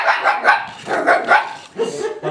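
Young puppies barking and yipping at a stuffed toy dog, several quick high-pitched barks close by, followed by a short whimpering yelp.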